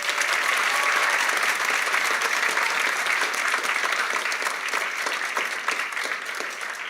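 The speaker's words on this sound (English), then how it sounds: "And now let's give everyone a round of applause." Warm, sustained applause from an audience at a school awards ceremony, a thick wash of clapping that continues evenly and fades only slightly toward the end.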